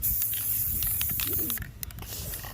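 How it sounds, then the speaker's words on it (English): Black spray paint hissing from an aerosol can onto a custom keyboard, a loud continuous close spray that cuts off partway, leaving soft rattles and short bursts. "So I'm going to spray it with black."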